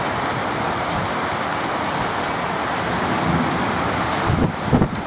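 Heavy tropical rain pours steadily during the Bangkok rainy season, heard through an open balcony window, a dense continuous hiss with low rumbles of thunder swelling near the end.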